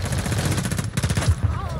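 Shotgun blasts fire in quick bursts during a Warzone 2.0 match, loud and close, with in-game chatter and effects mixed underneath.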